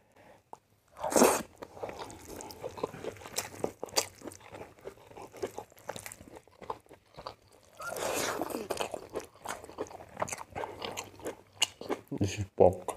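Close crunching, biting and chewing of a pork dish, with loud bursts of crunch separated by quieter mouth sounds and a voice speaking in between.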